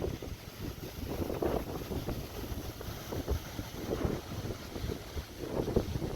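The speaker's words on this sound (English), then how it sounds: "I don't have a proper microphone for the wind." Wind buffets an unshielded microphone outdoors on a farm during hay harvest, a constant low rumbling roar with gusty surges and no voices.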